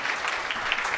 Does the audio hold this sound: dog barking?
no